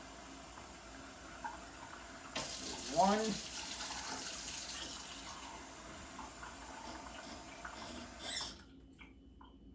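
Warm tap water runs into a measuring cup as a steady flowing splash for several seconds, then cuts off near the end, with a brief voice partway through.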